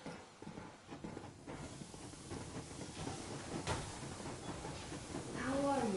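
Steam train rolling along in the game Metro Exodus, a steady hissing rumble of engine and wheels that grows louder toward the end, where a rising whistle-like tone appears.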